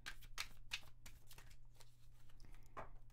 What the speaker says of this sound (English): I like to shuffle my cards, though.